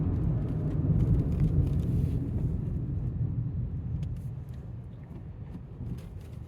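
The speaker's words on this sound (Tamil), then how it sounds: "ஸோ பிரேக்கிங் டெஸ்ட் பண்ண வேண்டிய நேரம் வந்தாச்சு." Nissan Magnite slowing hard from 80 km/h during a brake test, a loud broadband road and tyre rumble that gradually fades as the car decelerates, with no talk.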